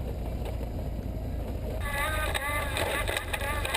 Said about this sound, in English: Hear the gear whine from the final drive.